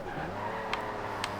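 A 2004 Maserati MC12 in the racing game Forza Horizon 2 has its back end slide out, a steady engine drone under a low tire scrub, with two brief sharp ticks.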